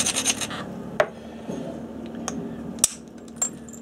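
A stone flake knapped off a Snyder's point: a few short, sharp clicks and ticks from close up, with a quiet scraping rasp between them and no talk.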